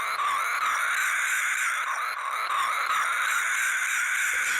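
A reconstructed dinosaur call, high-pitched and sustained, rings out as a loud, buzzing, cicada-like drone with layered tones that waver slightly over several seconds, with no talking.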